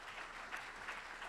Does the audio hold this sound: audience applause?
yes